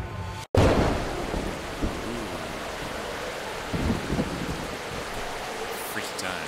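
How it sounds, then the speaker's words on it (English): A raging thunderstorm in the video game The Hex, opening with a sharp cut into loud, dense rain and a rolling rumble that continues steadily, with occasional louder thunder swells. "a storm is raging."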